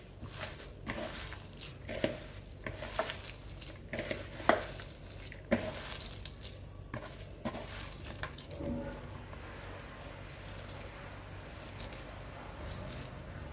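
Hands knead a vegetable semiya vada dough, producing close, soft squishing and pressing sounds in an irregular rhythm with occasional light taps, quiet throughout.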